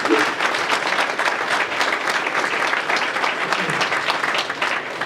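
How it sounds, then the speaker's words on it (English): An audience at a business lunch claps for medical staff, a loud, continuous wave of applause from many hands sustained for several seconds, with faint crowd murmur mixed in. "let's just stop and clap for that for me."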